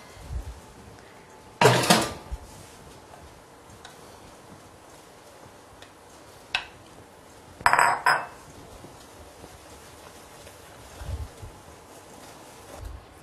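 Cake batter with almond powder and sugared yolks mixed by wooden spatula in a bowl, heard as a few sharp clinks and knocks against the bowl at irregular intervals over a quiet background.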